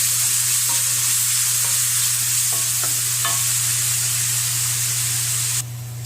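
Ginger and garlic sizzle steadily in a hot pan for a mutton curry, a loud continuous frying hiss with a few faint stirring clicks, no voices.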